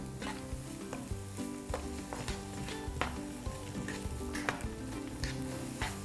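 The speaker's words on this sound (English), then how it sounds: "just move these around until the onion starts to get a little bit transparent" Chopped onion frying in a pan while being stirred, for a slow-cooker beef stew, a steady close sizzle with frequent scraping and tapping strokes of the spoon, loud and continuous, with no one speaking.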